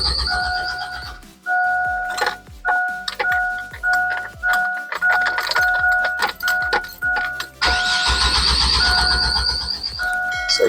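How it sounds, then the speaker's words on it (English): A 2000 GMC Safari engine cranking without starting: repeated rhythmic starter-motor churning pulses, close and loud, with a steady warning chime tone running over it and a louder buzzing stretch near the end. "So let's go crank the vehicle just to eliminate the issue of the battery."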